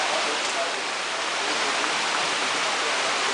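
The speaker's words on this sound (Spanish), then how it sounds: "Una cascada vemos ahí, allá otra" Water rushes steadily down a waterfall in a recreated white tiger habitat at a zoo in Singapore, a dense, even roar that stays constant throughout with no breaks.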